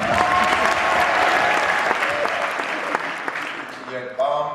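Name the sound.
audience applause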